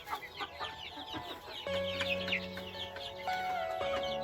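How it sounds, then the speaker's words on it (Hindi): A hen on a poultry farm clucks in a steady run of close, repeated calls while laying an egg, with a low droning hum joining partway through. "और देखिए अभी जस्ट ये मुर्गी अंडा पार रही है।"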